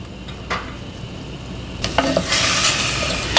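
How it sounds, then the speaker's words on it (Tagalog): Beef browning in a pan for beef mechado gives a quiet sizzle at first, then brighter bursts of frying and stirring scrapes over the last half, with no voices. "itutuloy lang natin yung pagluto dito hanggang sa mag-brown ito"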